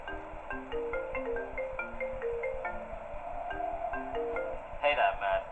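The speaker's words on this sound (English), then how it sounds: "And we get a phone call again." Repeated electronic phone ringtone in the video game Five Nights At Nintendo Land, a looping melodic chime sounding over faint background noise, with a brief louder burst near the end.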